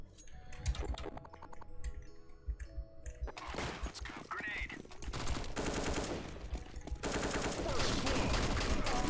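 Gunfire in Counter-Strike 1.6 on the pool map fy_pool_day, with sharp shots and rapid bursts mixed with keyboard clicks, getting busier and louder as the clip goes on.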